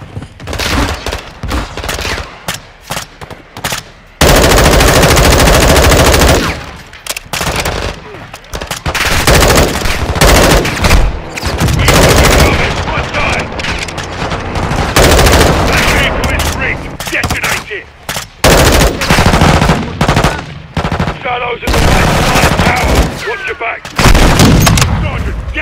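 Machine guns lay down cover fire in the Call of Duty Modern Warfare 2 campaign, dense bursts of loud automatic gunfire and booming shots almost continuously, with short gaps between volleys.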